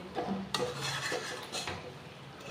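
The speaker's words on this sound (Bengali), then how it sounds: "এইভাবে নেড়ে নেড়ে এটা চিকেনটা কিন্তু অলরেডি আপনার রেডি হয়ে যাবে" Cashew chicken stirred in a pan, with a utensil scraping and clinking against the metal in steady, close strokes under a faint background sizzle; no one speaks.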